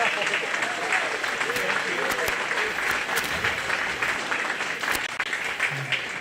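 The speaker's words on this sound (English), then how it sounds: "Let's give him a big round of applause" Steady audience applause at a county fair pig show, a dense patter of clapping that holds at moderate level throughout, with some crowd murmur and a voice occasionally audible beneath.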